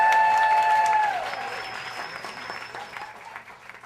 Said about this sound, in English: So I want you to applaud for Glenn.